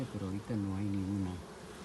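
Bees buzz close by around an injured bee with a damaged wing, a steady droning hum that rises and settles over about a second and a half before fading.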